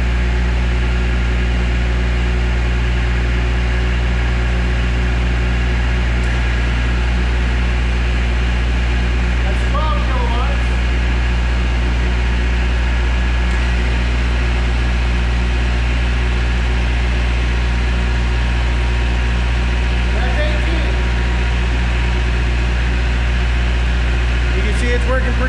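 An MEP-804A military diesel generator drones steadily under an 18-kilowatt load, a constant low hum with a faint higher whine, with a few brief faint sounds above it.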